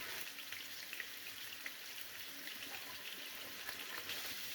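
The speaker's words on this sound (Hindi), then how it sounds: "सिर्फ फ्राई करना है। तकरीबन 2 मिनट हर साइड से फ्राई करूंगी।" Beef gola kababs fry in a pan with a faint, steady, hissing sizzle and tiny crackles throughout, with no talk.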